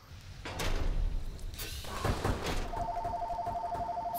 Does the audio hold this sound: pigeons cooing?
no